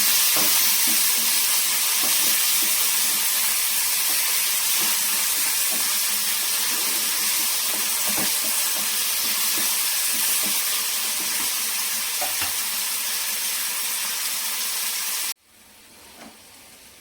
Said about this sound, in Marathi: त्यानंतर एक टोमॅटो कट करून घेतला आहे, तो पण छान असं परतून घ्यायचा आहे.